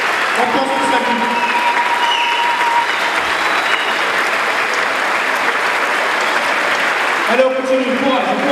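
Loud, unbroken clapping from a standing crowd fills a hall during a minute of applause honouring a boy who died, with scattered voices and whistles under it at a New Year's Eve evening.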